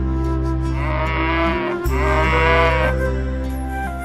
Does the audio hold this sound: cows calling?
yes